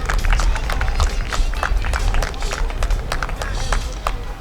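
A crowd at a Platinum Jubilee picnic in the park in Pinchbeck applauds and cheers, with dense, steady clapping mixed with scattered whoops that keep on loudly throughout.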